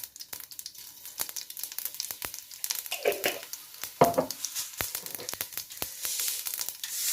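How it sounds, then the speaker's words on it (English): Mustard seeds pop and crackle in hot oil in a pan, scattered sharp snaps over a soft steady sizzle, close and fairly quiet, the bursts thickening now and then into quick clusters. "So just wait for the mustard to crack up."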